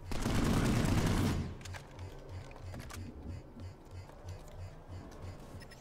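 Automatic weapon fire from the Planetside 2 video game, a dense, loud burst of shots for the first second and a half, then a quieter stretch of rhythmic game sounds and scattered impacts.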